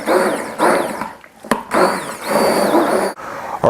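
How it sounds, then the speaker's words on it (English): A blender purees Thai butternut squash soup with coconut milk in loud whirring bursts. The motor whines, pauses briefly and starts again in a choppy rhythm. "once you're through with the blender and you've got the soup at a nice smooth texture"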